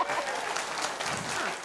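Audience applause at a live Nepali stand-up comedy club show, a steady dense patter of clapping that runs the whole moment without a break.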